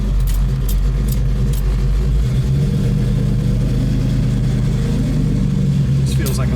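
A 1973 Dodge Challenger muscle car with a pistol-grip shifter, its engine running with a steady, deep low rumble, close and continuous, with a slight shift in tone partway through.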